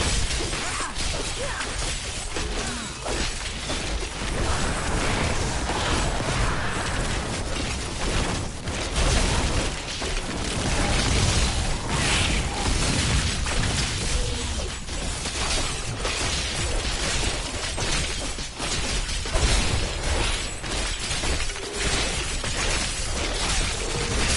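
Diablo 3 co-op combat with corpse explosions: dense, continuous game noise of smashing bursts, crashes and whooshes, loud and busy throughout with no voices.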